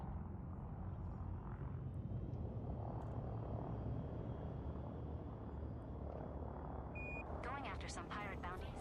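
A spacecraft lifts off in a space video game, a steady, loud engine roar holding level throughout with some brief electronic beeps and chirps near the end.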